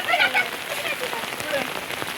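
Heavy monsoon rain pours down while rainwater streams along the ground outside, where children float paper boats. The hiss is steady and close, and voices chatter faintly underneath.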